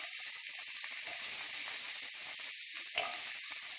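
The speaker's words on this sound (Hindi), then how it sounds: "इसी कढ़ाई में हम जो तेल बच रहे हैं, इसमें हम 1 कैप्सिकम डाल देंगे" Capsicum frying in leftover oil in a kadhai, a steady bright sizzle and hiss that holds evenly throughout, with a brief louder crackle near the end.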